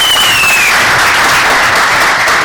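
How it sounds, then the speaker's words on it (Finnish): A crowd gives loud, sustained applause for a men's football team player, dense clapping that fills the whole stretch without pause. "Ihan oikeesti isot aplodit Akselille."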